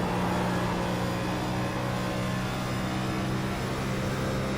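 A race car engine at Indianapolis gives a steady, loud, dense drone with a constant low hum, holding even throughout with no distinct surge or drop.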